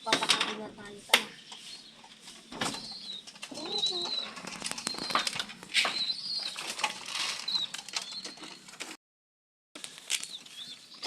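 Pigeons flap their wings in repeated bursts while being fed, with soft cooing and rustling close by, broken by a brief silence near the end.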